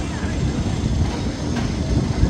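The Thunderhawk, a classic wooden roller coaster train at Dorney Park, rumbles loudly and continuously along its track, a dense, close clatter with a faint voice mixed in.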